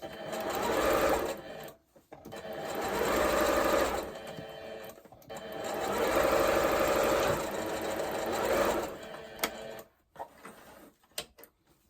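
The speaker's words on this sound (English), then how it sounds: "just lining the edge of this fabric up with the edge of the foot here, and just sew down" A sewing machine stitches a fabric seam on a simple shopping bag in three long whirring bursts separated by short pauses, then a few clicks and taps as it stops. The sound is close and clear, with no talk.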